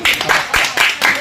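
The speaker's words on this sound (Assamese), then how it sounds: "তালি মারি" Hands clapping with a gamcha at a village wedding in Assam, five loud close claps in a steady rhythm under a talking voice.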